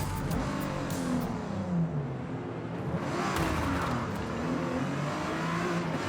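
A GT3 race car in Forza Motorsport on slick tyres, its engine droning and rising in pitch as it accelerates, loud and steady throughout with shifting harmonic whine.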